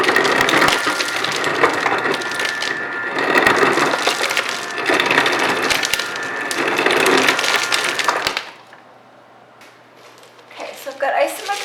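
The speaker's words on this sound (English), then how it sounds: "So I've got ice in my cup." Crushed ice from the fridge tumbles into a cup in loud, crunchy bursts with short gaps between them, then stops. Faint talk follows near the end.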